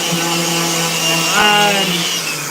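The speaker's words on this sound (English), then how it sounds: "I'm going to get back to sanding this board here" Power sanding of a wooden skateboard deck in a board-making shop: a loud, steady motor whine with a droning pitch that shifts slightly midway, heard close and alone.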